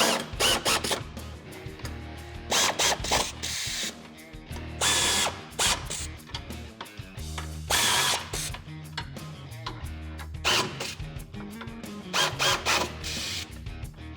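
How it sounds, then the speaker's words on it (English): Power tool and ratchet bursts from tightening the rear bumper bolts on a Jeep Wrangler JK, with repeated loud mechanical runs and short pauses between them and no talking. "So we'll tighten up this side and then we'll go to the other side and tighten that side up."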